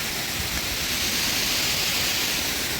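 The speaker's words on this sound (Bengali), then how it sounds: "এখানে ঝর্ণাটা শুধু দেখো" A mountain waterfall on the Annapurna Base Camp trek in Nepal roars as a steady, broad rushing wash of falling water, constant and fairly close, with no voices.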